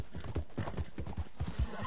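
Horse hooves clip-clopping at a steady trotting rhythm in the Red Dead Redemption 2 video game, close and even, with faint speech-like sound in the background.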